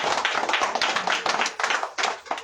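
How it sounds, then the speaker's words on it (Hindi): A church congregation clapping together, a dense, steady patter of many hands at close range, with brief dips in the rhythm and no talking over it. "सबके लिए धन्यवाद, ताली बजाएं, परमेश्वर को धन्यवाद करें।"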